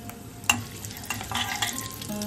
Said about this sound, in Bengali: ওই ডিম ভাজা তেলেই আমরা বাকি রান্নাটা করব। তেজপাতা, শুকনো লঙ্কা, জিরে সহ 4 গরম মশলা দিয়ে দিলাম।